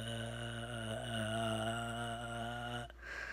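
Human voice humming a steady, continuous note in imitation of an old telephone dial tone, held for almost three seconds before cutting off into faint room noise.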